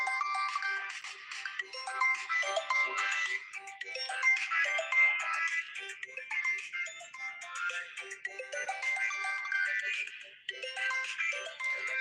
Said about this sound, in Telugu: ఎవరో ఫోన్ వస్తుందండి